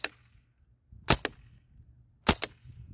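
A CO2-powered HK416 air gun fires semi-automatic, two quick sharp cracks in a pair, then after a pause another close double shot, loud against a quiet background.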